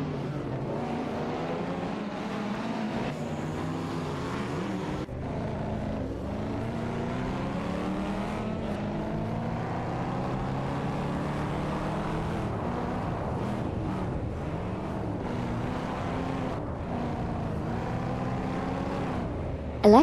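Racing car engines from a Ferrari 288 GTO and an Audi V8 Quattro in a racing video game, a continuous droning roar with rising and falling pitch as the cars accelerate and shift, steady and loud.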